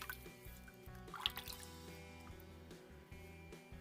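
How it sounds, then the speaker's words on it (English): Water drips and splashes softly onto a head being wetted before a shave with shave soap, a few small quiet drops close by with no talking. "A little water on the head."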